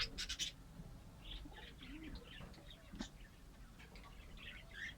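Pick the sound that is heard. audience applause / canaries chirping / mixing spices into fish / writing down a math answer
canaries chirping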